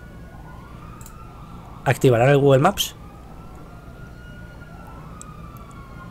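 Distant police sirens wail and sweep in a video game chase near the London Eye, faint and layered under a brief burst of speech in the middle.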